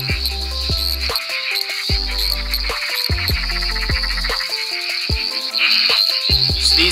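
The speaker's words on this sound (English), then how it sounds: "Litoria fallax, eastern sedge frog." A frog pond chorus that includes eastern sedge frogs (Litoria fallax), a busy layered din of trilling and croaking calls over strong, repeated deep pulsing tones, loud and continuous throughout.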